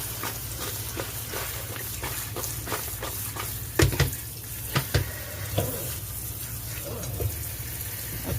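Bitter melon being rinsed under a running kitchen tap, a steady splashing stream with scattered knocks and clatter of the gourd against the sink, close and fairly quiet.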